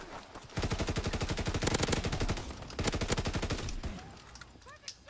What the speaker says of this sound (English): There's like a machine gun of some kind.